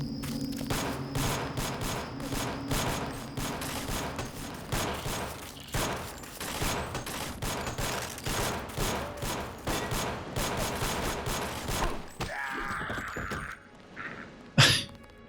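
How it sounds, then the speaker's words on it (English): Rapid bursts of gunfire from the Deus Ex GMDX mod, including an allied NPC shooting, keep up dense, loud, continuous fusillades, then give way to a short lull, a muffled hiss and one sharp final shot. "Oh look, one of our guys is there, shooting."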